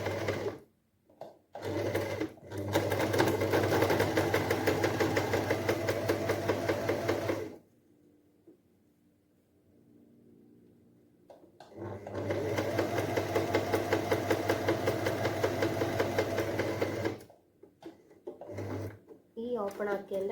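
A sewing machine stitches a child's dress made from an old churidar, running in two long steady bursts of rapid rhythmic clatter with a pause and a few short starts between, close and loud.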